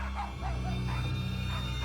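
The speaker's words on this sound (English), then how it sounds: "to see what the dogs were barking about" Dogs bark in a house in a few short muffled yips over a steady low hum, moderately loud against the background drone.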